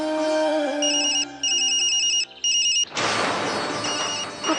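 A phone ringtone chimes in repeated bursts of bright tones for a few seconds, then cuts off into a burst of broadband noise.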